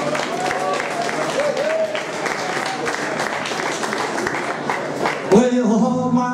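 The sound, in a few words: audience applause for the drummer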